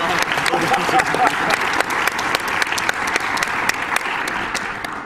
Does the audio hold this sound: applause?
yes